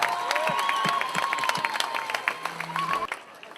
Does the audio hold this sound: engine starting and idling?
no